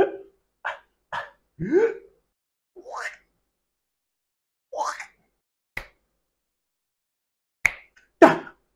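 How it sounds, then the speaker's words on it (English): Short, separate sanitizer spray-bottle pumps and hisses sound alone against silence, used as percussion in an a cappella beat, about nine irregular hits with gaps between them, some sharp clicks and some rising swooshes. "I'll use my sanitizer spray to make some."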